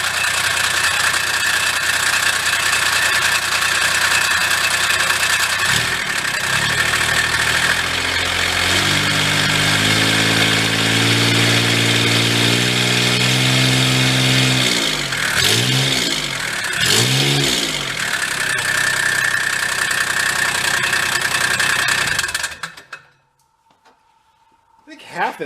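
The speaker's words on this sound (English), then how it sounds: "Half of that is just the the clacking of the diesel, but it still is a little on the rattly side" Diesel engine of a Bobcat Toolcat side-by-side idling with a steady rattling, clacking knock, loud and close, briefly revved with rising and falling pitch before being shut off near the end.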